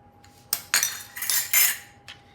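A spoon clinks and scrapes against a bowl, mixing almond meal, cacao powder, a pinch of salt and baking powder for a gluten-free, sugar-free beetroot brownie, in five or so close, uneven bursts.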